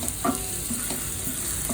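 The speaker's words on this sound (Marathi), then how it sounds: "त्यात कांदा चिरलेला टाकलेला आहे, मोहरी, जिरे टाकलेले आहे. ते छानपैकी परतून घ्यावे." Chopped onion with mustard seeds and cumin frying in hot oil, a steady close sizzle with a few soft stirring scrapes over a short stretch.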